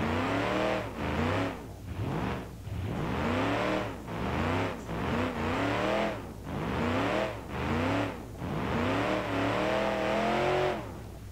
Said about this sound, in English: I think it's a 6-liter V8.